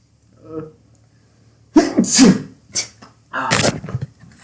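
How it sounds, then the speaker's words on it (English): A single loud sneeze with a sharp inhaled build-up and explosive release, close to the mic, followed by a brief breathy sound. "I'm about to sneeze."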